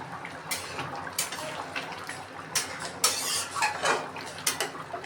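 Pumpkin and fish curry being stirred in a pan, with intermittent scraping and clinking of a utensil against the pan over a low background hiss, close and moderately quiet.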